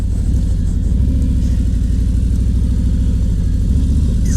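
A motorcycle engine running at low speed as the rider slows to about 10 miles an hour before a quick swerve. It makes a loud, close, steady rumble with a fast pulsing throb and no talking over it.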